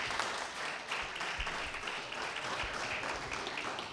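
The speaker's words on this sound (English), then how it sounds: "So we'd ask if they would stand and receive the warm applause of the House." Moderate, steady applause from members of the House of Assembly welcoming visitors, many hands clapping evenly in a large chamber for several seconds with faint background murmur.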